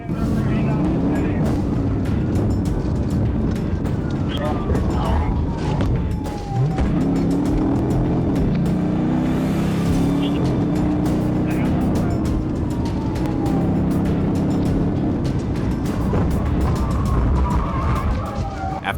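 A car speeds away in a high-speed police pursuit, its engine roaring loudly and continuously for the whole stretch, with road and wind noise mixed in.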